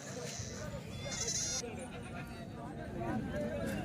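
A goat bleats a few times amid a busy outdoor livestock market crowd, its wavering cries rising over the steady murmur of people talking.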